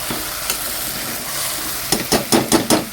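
An Andhra-style methi vegetable curry with brinjal sizzles steadily in a pan, then five quick, rhythmic stirring scrapes of the spoon follow close up and loud near the end.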